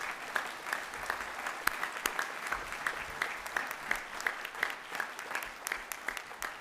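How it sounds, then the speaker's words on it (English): Applause from an audience at a university honorary doctorate ceremony, a fairly faint, steady patter of many hands clapping in a large hall, continuing evenly throughout. "Let's give them a clap because you guys are fantastic."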